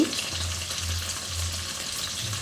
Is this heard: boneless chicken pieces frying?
yes